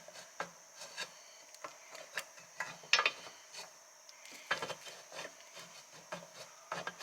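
Irregular, quiet scraping and rubbing strokes of sandpaper on an old Rob Roy 112 wood stove door, close by with short bursts and gaps between them, no voices.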